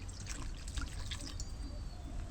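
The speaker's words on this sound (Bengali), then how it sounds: "দিয়ে দেব জল" Water is poured into a pan while cooking pizza with ginger, a soft continuous trickle, faint and steady over a low background hum.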